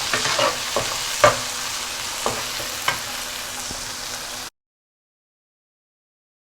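Tomato being stirred in a hot frying pan, a soft sizzle with several distinct spoon knocks and scrapes that cuts off abruptly into silence.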